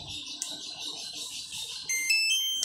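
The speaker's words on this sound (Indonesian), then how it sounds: "tekan tombol ini sampai nanti bunyi" Steady electronic beeping from a Suprema BioEntry W2 access control device while its reset button is held, a continuous high-pitched tone that grows louder and sharper near the end.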